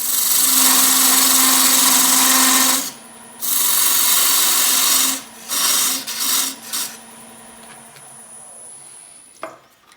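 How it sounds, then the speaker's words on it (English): A parting tool is worked by hand across wood on a lathe that is switched off. Bursts of steady, loud scraping come in several strokes of uneven length, then taper off into softer, shorter rubs. "I'm going to take the parting tool and I'm going to cut down to that level."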